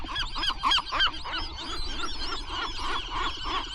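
A gull chick on Anacapa Island calls close by, with dense, repeated honking squawks that run continuously.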